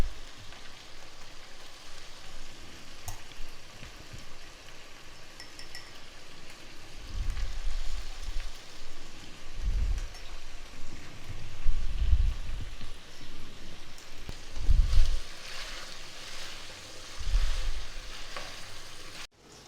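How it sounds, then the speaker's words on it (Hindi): Okra fries in a pan for a bhindi chicken dish, giving a continuous crackling sizzle. Several low thumps and stirring scrapes come at intervals, with the frying steady underneath. "भिंडियों को आपने इतना फ्राई करना है, बिल्कुल ब्लैक नहीं करना"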